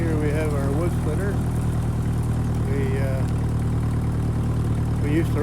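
A 1951 Ferguson TEA20 tractor idles with a low, steady engine rumble that runs without a break, while someone talks over it throughout.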